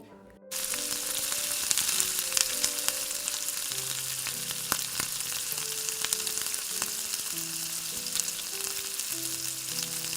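Ginger-garlic paste and cumin powder are stirred into hot oil in a pan for a Bengali cauliflower-and-potato dish. A steady, bright sizzle starts after a brief quiet moment and continues throughout, with a soft melodic tune underneath.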